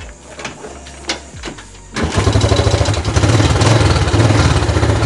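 A Yamaha Jupiter Z1 motorcycle engine with a rough-running fault, first blipped in a few short bursts, then held at a steady, loud, pulsing run with a rapid throbbing beat close by.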